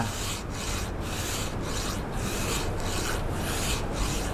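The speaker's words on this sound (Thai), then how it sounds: "จังหวะที่โยกไปด้านหน้าครับ เราครูจะออกแรงนิดนึง แล้วกดเล็กน้อยนะครับ เพื่อให้ตะไบกินชิ้นงาน" A hand file rasps steadily across a metal workpiece in close, loud forward strokes, with short breaks between strokes about every half second and no talk.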